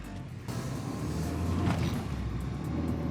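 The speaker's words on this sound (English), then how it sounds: "Are you ready to turn your first car on for the first time?" A small red car's engine starting up, a sudden broadband rumble kicking in after a brief quieter moment and settling into a steady, moderate idle drone.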